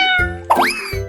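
A cartoon cat in a 3D animal sliding video game gives a single short, clear meow, loud and close, set over steady game music.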